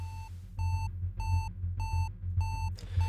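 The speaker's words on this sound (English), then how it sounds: "When the music is a lot different, it's just beeping." Steady electronic beeping from the video game Axiom Verge, with five or six evenly spaced pure-toned beeps in a regular rhythm over a low droning hum, and no talking.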